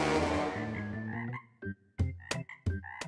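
Frog croaking in Pampanga, a run of loud, close guttural croaks: a long rolling call first, then several short, sharp bursts separated by brief pauses, with no voices.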